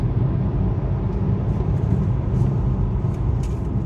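A car driving along a road, its steady engine and tire rumble continuous and close throughout, with no talking.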